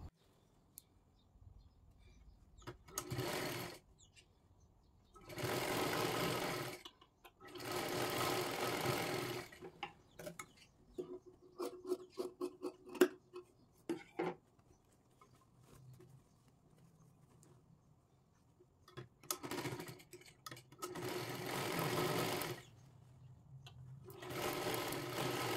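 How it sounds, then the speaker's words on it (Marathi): A sewing machine stitches a size 38 princess blouse in several rapid whirring bursts of a few seconds each, separated by quiet pauses filled with light clicks and cloth handling. "हे पहा अशा पद्धतीने इथे एक पूर्ण शिलाई मारायची आणि आतल्या बाजूला ते पलटी करायचं आहे"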